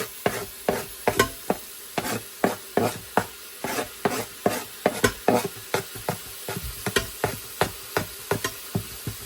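Rhythmic scraping stirs through a steady sizzle, a spoon knocking and sliding around a pot of frying chicken again and again.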